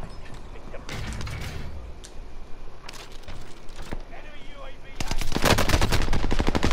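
Rapid bursts of automatic gunfire in Call of Duty Warzone, scattered shots early on building to a dense, loud volley near the end, with a player talking intermittently.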